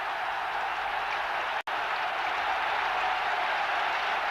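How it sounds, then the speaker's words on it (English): Sustained applause from a large crowd fills a cricket stadium during a 1983 India versus South Africa semi-final, a steady dense roar of clapping broken by one brief dropout. "a clapping breaks out around the stadium to see if they can clap him to 50"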